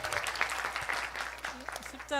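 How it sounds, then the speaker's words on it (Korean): A church congregation applauding during a Sunday service, a steady patter of clapping mixed with voices talking over it. "박수 한번 좀 드리도록 하겠습니다"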